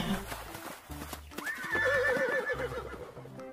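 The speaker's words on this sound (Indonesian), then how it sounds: "Ini kuda putih." A white horse neighs in a long, loud whinny midway through, with clip-clop hoofbeats and background speech and music around it.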